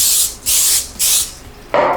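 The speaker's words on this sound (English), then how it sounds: "making sure to hit it with some non-stick spray" Non-stick cooking spray hitting a cooking tray while making a buffalo chicken pizza: three short bright hissing bursts in a steady rhythm, then a fourth, duller spray, close up with no talk.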